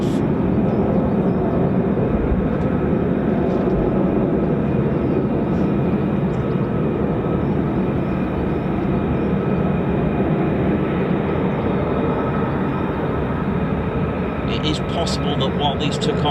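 USAF F-15E Strike Eagle and F-35A Lightning fighter jets of the 48th Fighter Wing taking off from an RAF base, a loud, continuous jet-engine roar that holds steady throughout.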